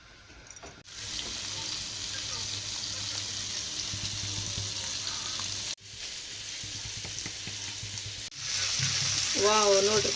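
Fish pieces frying in oil on a flat iron tava, a steady close sizzle running throughout with brief breaks, a faint high-pitched tone near the end.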